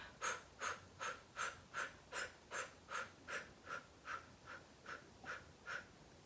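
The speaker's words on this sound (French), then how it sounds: "Donc tu souffles et l'inspiration se fait naturelle, tu vois." Slow guided breathing, a dozen soft rhythmic breaths close to the ear, each exhale an airy puff at an even pace of about two seconds, quiet and alone with no talk.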